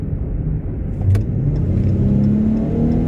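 A Dodge Challenger engine revs up and accelerates while overtaking a truck, a steady low rumble swelling louder midway and holding strong, close by.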